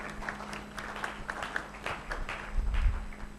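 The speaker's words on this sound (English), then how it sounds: "round of applause for Casey." Audience applause after a speaker's introduction at a sales and marketing talk, a moderate spread of clapping that swells toward the end, with a steady low hum underneath.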